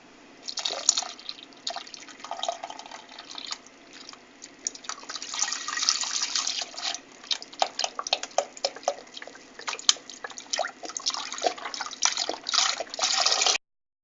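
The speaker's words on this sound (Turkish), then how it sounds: "Şimdi 1 litre sütümüzü döküyoruz." A litre of milk poured into a pot of boiled rice while making keşkül milk pudding gives a steady, close splashing and trickling of liquid lasting several seconds, with no talk.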